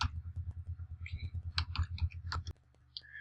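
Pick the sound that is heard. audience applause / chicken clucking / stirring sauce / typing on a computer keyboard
typing on a computer keyboard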